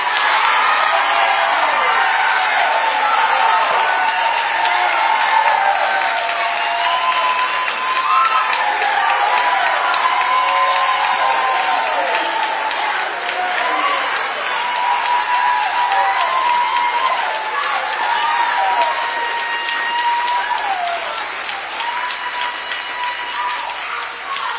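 Town hall audience in Nebraska applauding and whooping in a sustained, loud crowd ovation with scattered cheers, continuing throughout and easing slightly toward the end.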